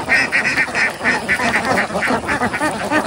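A flock of ducks quacks steadily and busily while feeding on small fish caught from a pond, their overlapping calls close and loud throughout.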